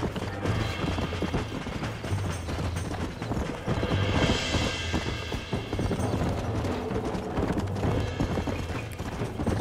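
Horse hooves clip-clop steadily while riding in the video game Red Dead Redemption, a continuous rhythmic trot with faint tack jingling, sustained and fairly close across the whole stretch.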